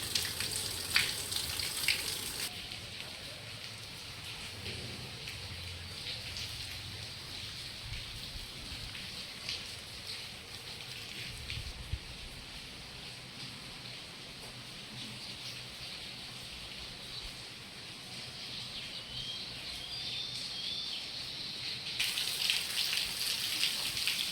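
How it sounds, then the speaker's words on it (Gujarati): Soft, steady patter of light rain falling on surfaces, a continuous gentle hiss with scattered drops, no voices. "આવો હાલો વરસાદ બતાવી દો"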